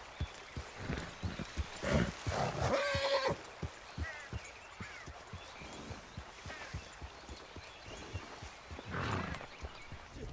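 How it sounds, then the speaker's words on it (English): Steady hoofbeats of a horse ride in Red Dead Redemption 2 clop along with outdoor game ambience of birds and chirping crickets, and a brief horse whinny rises partway through. "You can hear the crickets chirping, birds calling, your horse neighing."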